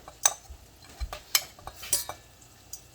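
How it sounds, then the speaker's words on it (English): Onions cooking in a pan on the stove for stuffing, stirred now and then: scattered close scrapes and light utensil clicks over a faint, quiet sizzle. "I'm just gonna cook the onions till they're clear, not caramelized."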